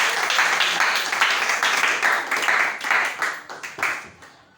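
A church congregation breaks into sustained applause and clapping, loud and dense, with bursts rising and falling and a few voices calling out before it tapers off.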